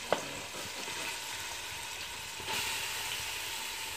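Green cardamom crackles in hot oil as it is tempered for carrot halwa, a quiet, continuous frying sizzle with one small pop at the start and a slight rise in hiss toward the end.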